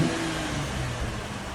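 A 2012 Cadillac CTS with a 3.6L V6 and stock exhaust revs briefly, a close, steady mid-pitched engine roar that holds without a break.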